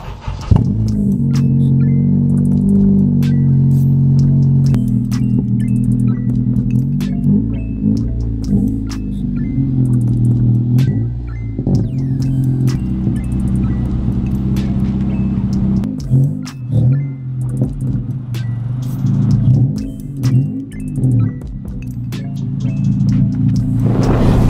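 A car engine rumbles steadily, revving up and settling as the vehicle pulls away, with occasional clicks and knocks over the low drone.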